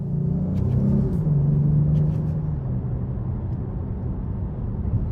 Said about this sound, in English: take this new 2023 Dodge Charger GT Blacktop out on the road for a quick test drive